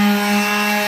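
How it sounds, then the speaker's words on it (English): A power sander working over guide coat on the body panel of a 1976 Monte Carlo, a steady close whine holding one pitch for the whole moment, with no one talking. "And then when I keep sanding this spot here, and I sand all that black off, then you know you got it level."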